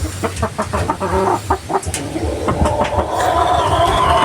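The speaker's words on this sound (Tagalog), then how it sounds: "Ito yung mga manok dito." Chickens clucking in a busy coop, a steady run of short clucks and squawks with livestock bustle, close by and fairly loud.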